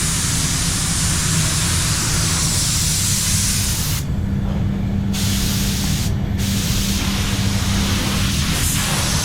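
A spray gun lays clear coat over a white pearl Nissan Patrol during a respray, a loud continuous hiss with two brief breaks where the trigger is released.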